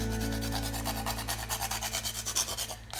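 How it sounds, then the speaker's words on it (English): A whole nutmeg is scraped against a grater in quick, rhythmic rasping strokes, close and fairly quiet, about a dozen even passes that stop abruptly. "there's this joy and pleasure that comes from grating a nutmeg that I really like, so I always grate it."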